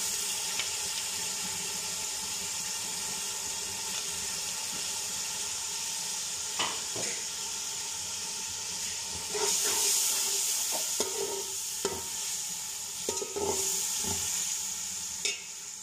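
Ginger, green chili and tomato fry in a pan of oil for a dumba lamb pulao dinner, giving a steady sizzle and hiss throughout, with stirring scrapes and clinks growing busier toward the end, close and moderately loud, with no talking.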